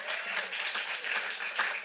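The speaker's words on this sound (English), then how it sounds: "And the way that we celebrate is through claps." An audience in a room claps and applauds, a dense, steady patter of many hands sustained for a couple of seconds.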